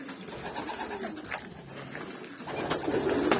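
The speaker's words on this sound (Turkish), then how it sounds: "Gelin size hünkârı güvercinlerimi göstereyim tanıtayım." Hünkari pigeons, an Ottoman-heritage breed, coo nearby in soft repeated low calls that grow louder toward the end.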